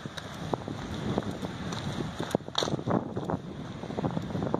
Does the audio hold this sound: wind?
yes